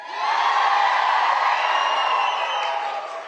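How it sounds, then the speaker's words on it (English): A large crowd cheers and whoops at a Durham campaign rally for US Senate candidate Roy Cooper. The sustained, loud roar of many voices lasts about three seconds with no single speaker heard. "What a great crowd this is."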